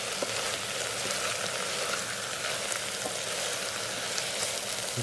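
Spicy potato fry sautéing in an Instant Pot, a steady close sizzle and crackle of frying potatoes with chili powder that holds at an even level throughout, with no voices.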